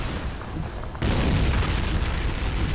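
A bazooka rocket explodes in Medal of Honor: European Assault. A loud, sudden boom breaks in after a short lull and rolls on as a heavy, sustained rumble.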